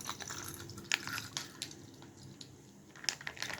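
Milk is poured into a glass holding nendran banana powder, giving soft, close dripping and trickling with a few brighter splashes and a brief lull partway through.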